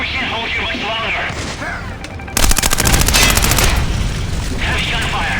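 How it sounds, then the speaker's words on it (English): Heavy sustained gunfire in the video game Splinter Cell: Blacklist erupts after a couple of seconds, loud rapid bursts layered into a dense roar, with shouting voices beforehand. "Heavy gunfire."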